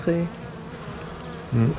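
Honeybees at an opened hive in a colony that suffered Asian hornet attacks give off brief close buzzes, two short bursts at the start and end over a soft background hum.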